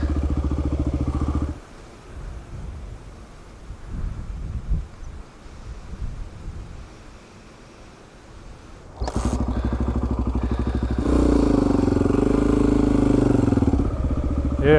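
Honda XR250 dirt bike engine on a windy trail ride, a loud, steady engine drone at the start that drops away to wind rustle and returns strongly, rising and revving.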